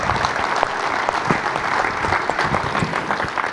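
A room full of people at an association meeting claps steadily for a few seconds, a dense, even applause with no voices standing out.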